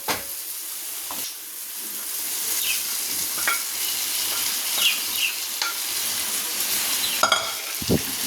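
Cluster beans sizzle and fry in a pan with chili powder masala, a steady hiss broken by occasional scrapes and knocks of stirring, with no talking.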